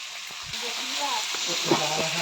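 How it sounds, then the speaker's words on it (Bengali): Fish and vegetable curry of rui fish with potol and potato sizzling in oil in a pan, a soft continuous hiss with a few faint clinks, brief and under a speaking voice. "এত ছেঁক উঠেছে"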